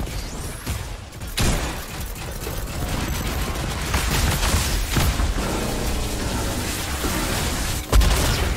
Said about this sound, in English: Where am I being shot from? Oh, it's the mech.